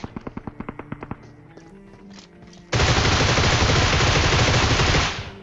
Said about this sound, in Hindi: लेकिन फायरिंग तगड़ी वाली होती है मेरे पे भी।